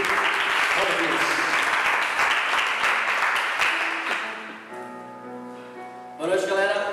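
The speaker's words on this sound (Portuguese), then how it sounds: "Vamos aplaudir mais uma vez todos os Jesus." A church youth audience applauds, a loud, dense burst of clapping for about four seconds that fades out as a voice begins talking over a tonal background.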